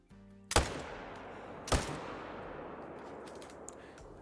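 Two loud rifle shots in theHunter: Call of the Wild, fired at wild boars about a second apart, each with a sharp crack and a long rolling echo fading into open outdoor ambience.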